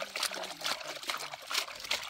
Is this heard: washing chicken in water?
yes